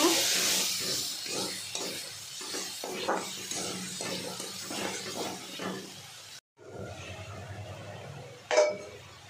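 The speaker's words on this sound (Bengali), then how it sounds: "আর কালারের জন্য লঙ্কার গুঁড়ি দিয়ে দিলাম। ভালো করে কষে নেব।" Chili powder and turmeric are stirred into spices sautéing in a pan while fish curry is prepared. A spoon scrapes in a quick, irregular rhythm over a soft sizzle, up close and fairly quiet, with a brief pause and a final clatter.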